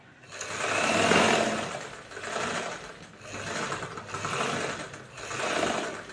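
A sewing machine hems the edge of a saree, running in several loud, close bursts of rapid mechanical whirring separated by short pauses, with no voices.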